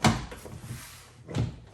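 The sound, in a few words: car door panel set into track on Honda CR-V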